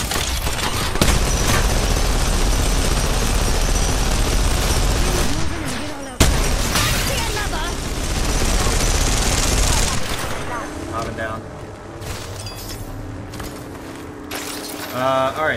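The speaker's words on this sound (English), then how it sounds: "Getting shot at." Dense, loud automatic gunfire rattles almost continuously in an Apex Legends match, briefly breaking off, then resuming before thinning into scattered shots and mechanical clatter near the end.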